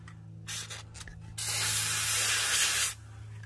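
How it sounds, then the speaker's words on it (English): A grease gun sprays lubricant into a trailer leaf spring suspension, giving a steady close hiss that lasts about a second and a half, after a few short bursts and a low background hum. "I come up here and I shoot grease the best I can in there and let it run down"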